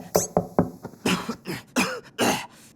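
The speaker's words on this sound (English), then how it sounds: "you're coughing" Several sharp cartoon coughs in quick succession, close and fairly loud, followed by a couple of heavier, rougher coughs, from the animated series Totally Spies!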